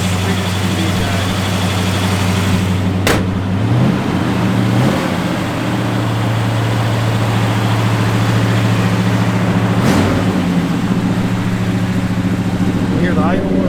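A 1967 Chevrolet Chevelle SS engine idles steadily and loudly close by, a continuous low rumble that holds even throughout with no voices over it.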